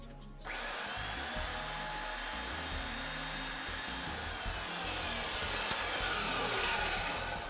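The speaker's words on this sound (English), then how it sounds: "After you cut, you need to ream the ID of the pipe." A Reed 5301PD power drive reams the inside of a freshly cut 3/4-inch pipe, giving a steady, continuous motor whir that starts abruptly and runs for several seconds, alone and close by.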